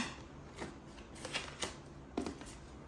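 Tarot cards are shuffled by hand in soft, faint riffles and taps, a few quick card flicks spread across a quiet room.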